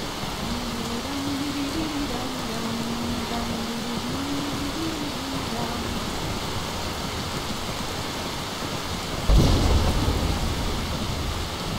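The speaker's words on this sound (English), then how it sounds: "Sorry, Paul, we're going to have to leave you out here in the rain." Steady rain pours in the Skyrim video game while a low thunder rumble rolls underneath, with a sharper crack of thunder near the end; no speech.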